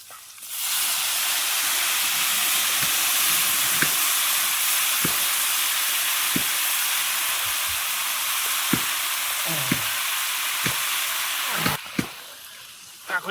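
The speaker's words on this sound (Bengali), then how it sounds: "তেঁতুলের জলটা দিয়ে দেবো" Tamarind water poured into pork curry in a hot pan gives a loud, steady sizzle and hiss that lasts throughout, with scattered soft clicks and stirring knocks near the end.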